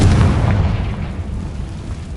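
A Confringo fire spell bursts in a Harry Potter video game, a loud booming explosion that hits hard at the start and then rumbles on and slowly decays.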